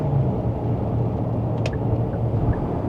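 2025 Hyundai Santa Fe HEV Calligraphy accelerating on a New Zealand motorway, heard from inside as a steady low road-and-engine rumble with a faint brief click midway.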